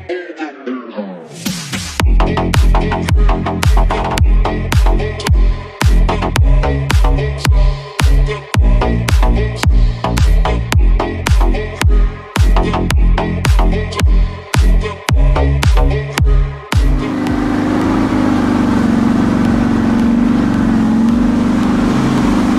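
A Mitsubishi Pajero stuck in mud off-road, its engine revving in rapid, straining pulses that repeat loudly and close by, then settling into a steady, lower drone.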